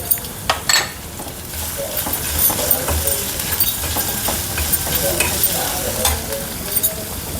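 Chopped onion is tossed into a hot pan and fried. A loud, close sizzle runs throughout, broken by clattering metal stirring and scraping against the pan.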